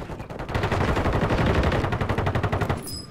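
Rapid automatic gunfire in the Warzone shooter game, loud and close, a dense sustained burst of shots rattling for about three seconds with no talk over it.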